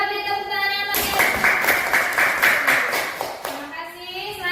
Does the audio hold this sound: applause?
yes